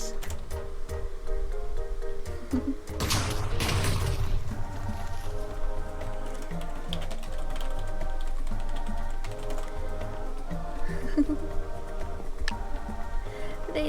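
Computer keyboard typing during a Hypixel Murder Mystery Minecraft game, rapid clicky keystrokes running throughout under game sounds and background music, with a brief louder burst early on.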